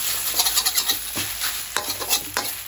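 Rice noodles stir-fried with minced pork in a wok, with close, loud scraping and tossing strokes in a steady rhythm over a constant sizzle of hot oil.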